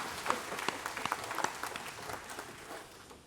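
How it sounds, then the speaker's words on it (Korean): A church congregation in Daegu claps during a Sunday worship service, scattered and fairly faint in a reverberant hall, with distinct individual claps that gradually taper off. "영광의 박수를 하나님께 드리겠습니다."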